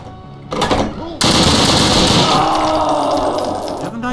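Rapid machine-gun fire in the Wolfenstein shooter game, a short burst followed by a loud, sustained stream of automatic gunfire close up, with a voice talking underneath.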